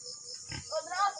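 A pig grunts close by on a small farm, a short, low snorting grunt heard alongside someone talking.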